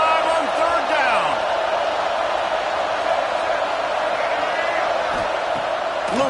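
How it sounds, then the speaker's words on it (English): Buckeye football crowd in the NCAA 26 video game roars steadily at a distant, even level on third down, with faint whoops rising over a game commentator's voice. "The Buckeye crowd alive on 3rd down."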